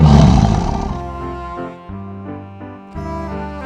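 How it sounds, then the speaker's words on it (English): A lion's roar bursts out loud and close, then fades into a sustained musical tone that swells again near the end, with no talk. "This is lion."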